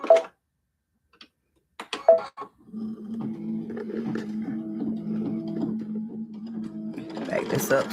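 An embroidery sewing machine stitches out a design after a few sharp clicks and clatters of setup, settling into a steady, rapid mechanical hum and ticking rhythm that runs for several seconds.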